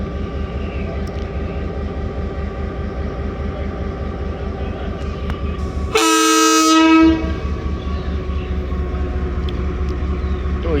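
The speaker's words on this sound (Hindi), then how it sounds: "विसल हो गई है।" A train's departure whistle sounds at Attock City Junction, a loud, steady blast of about a second rising over the continuous rumble of a locomotive idling at the platform.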